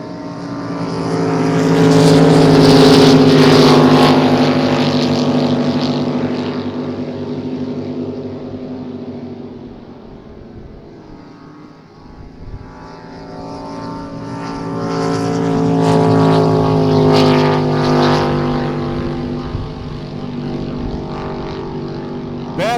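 A Levycraft sprint racing boat on the Long Beach course, its engine roaring loudly as it passes close, fading in the middle, then swelling again with another pass, a sustained throaty drone with strong harmonics.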